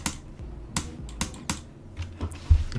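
A computer mouse is clicked rapidly while spamming in Geometry Dash, producing close, crisp clicks in quick irregular bursts, around a dozen over a few seconds.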